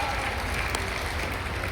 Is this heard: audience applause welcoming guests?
yes